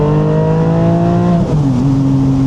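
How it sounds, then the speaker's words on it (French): A hybrid Porsche Boxster 718 Spider accelerates at full throttle from second gear at low revs, its engine note loud and close, rising steadily with a brief dip as the pitch climbs again. "c'est indécent comment ça accélère bas dans les tours"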